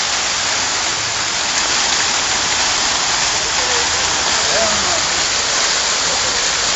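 Water pouring and splashing steadily as a man bathes outdoors in cold water, a dense close rushing spray throughout with people's voices in the background.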